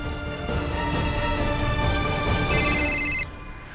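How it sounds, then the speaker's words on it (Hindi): An electronic phone ringtone plays a sustained, melodic ringing pattern, loud and close, changing pitch partway before cutting off near the end. "शोभित भाई को फोन करती हूँ।"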